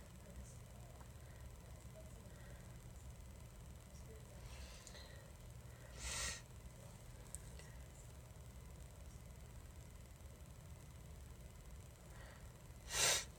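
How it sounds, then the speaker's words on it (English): A person with a cold sniffles twice, quick nasal inhales spaced several seconds apart, close and fairly faint against a quiet background. "I apologize for sniffling so much. I have a cold."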